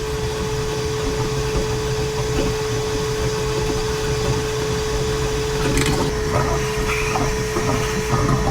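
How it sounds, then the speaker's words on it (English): A vacuum cleaner drones continuously as it sucks water out of a Nitro Z6 boat hull, with a steady tonal whine plus occasional gurgling and clattering bursts toward the end. "my vacuum cleaner and just turn that thing on and just let it sit there and suck as long as it can suck."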